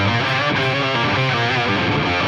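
An electric guitar played through a V30 amp with a Pliny octave pedal gives a thick, distorted, octave-doubled tone, sustained chords ringing continuously and loudly throughout.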